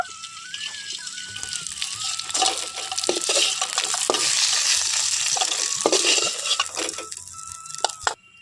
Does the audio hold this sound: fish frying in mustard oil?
yes